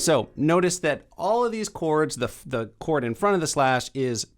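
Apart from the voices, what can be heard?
No everyday noise stands out behind the speech.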